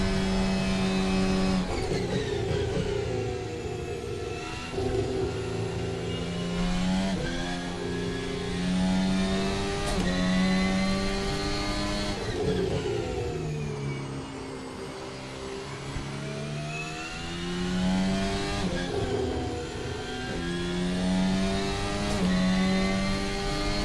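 A Formula Alpha open-wheel race car in Assetto Corsa screams through the gears at Monza, its engine note rising and dropping again and again on upshifts and braking, loud and continuous, with no talking.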